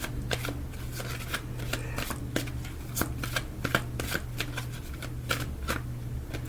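Tarot cards riffled and shuffled by hand in a series of sharp, crisp snaps and flutters, close and fairly loud, over a steady low hum, with no talking.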